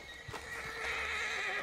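A horse in the video game Red Dead Online neighs in a long, loud whinny following a few hoof clops, heard alone without talk.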